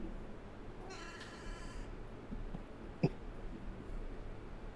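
A cat meows in the Bug Fables video game: one drawn-out meow early on, then a short sharp blip, all fairly quiet over a low background.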